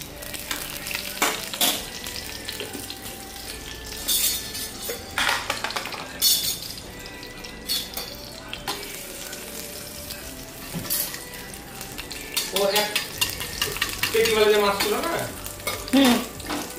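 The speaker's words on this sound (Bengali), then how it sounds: "ঘি দিয়ে আগে সিমুইটাকে ভেজে নেব" Vermicelli frying in ghee in a pot, a continuous sizzle under repeated metal spoon scrapes and clanks against the pan in an irregular rhythm, close and fairly loud, with no talking.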